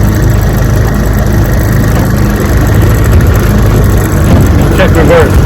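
A 1973 Johnson 9.5 HP outboard motor idles loudly and up close on a lake, a steady low rumbling putter with a brief voice audible over it near the end.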